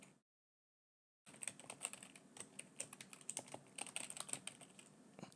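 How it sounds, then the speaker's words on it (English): Rapid typing on a computer keyboard after a brief silence, a close stream of crisp, uneven key clicks and taps with no talking. "if I type something like this"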